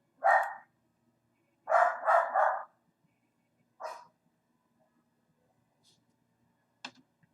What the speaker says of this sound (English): my dog can be heard in the background for a brief moment